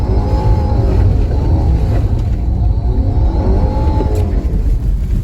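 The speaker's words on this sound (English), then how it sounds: "You can hear the engine like cutting out a little bit, and the brakes grab" A Ford Bronco Sport engine strains under full throttle, a loud droning rumble from inside the cabin that wavers and dips as power briefly cuts out.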